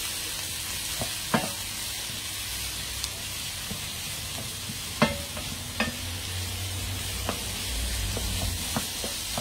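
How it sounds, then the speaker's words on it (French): Onions and smoked bacon lardons fry in a pan with a steady low sizzle, punctuated by scattered sharp pops and spits throughout. "on fait revenir les oignons et les lardons"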